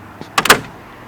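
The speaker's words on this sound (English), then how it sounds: "Let's listen to this door." A door on a 1940 Oldsmobile 70 Series is swung shut, a faint click followed by a heavy, solid double thunk with a brief rattle, close and loud, then quiet.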